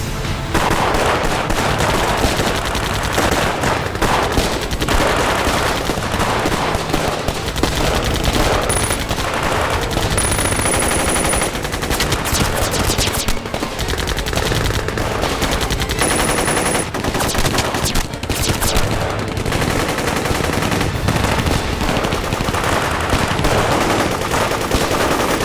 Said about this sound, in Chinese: 命令各部对空射击